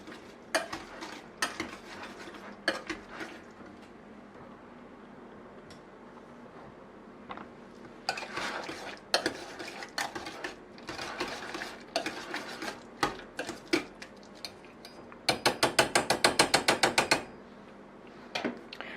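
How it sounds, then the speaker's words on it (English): A whisk stirs potato soup in a pot on low heat, making clinking, scraping strokes in irregular bursts with quiet gaps, then a fast, steady run of beats near the end. "I'm just going to be using a whisk for this."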